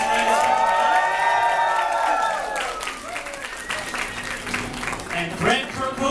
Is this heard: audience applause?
yes